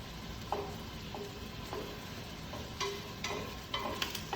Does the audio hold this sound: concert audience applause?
no